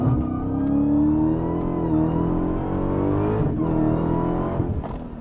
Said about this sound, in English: definitely a lot of wheel spin at the get-go